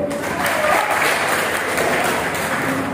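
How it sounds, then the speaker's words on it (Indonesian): Audience applause at a church Bible quiz competition, a steady dense clapping from a crowd filling the room, sustained and fairly loud throughout. "Tepuk tangan dulu"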